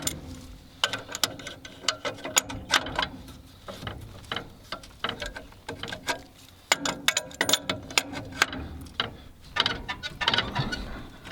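Ratchet wrench tightening a bolt on a seized Continental F140 engine in an abandoned 1950s Massey Harris 35 combine, heard as rapid, close clicking bursts in repeated strokes with short pauses between them.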